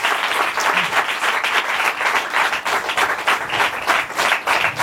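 A church congregation claps together in praise, a loud continuous wash of hands with a steady pulsing rhythm, close and with no talk.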